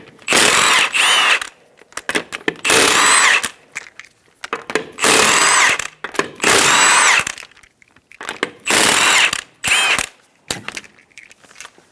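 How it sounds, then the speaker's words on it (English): A power tool fitted with a 19mm socket spins the five lug nuts off a Subaru Outback wheel. Several loud, close whirring bursts, each about a second long, alternate with clicks and clatter between nuts. "Using a 19mm socket, remove the 5 lug nuts."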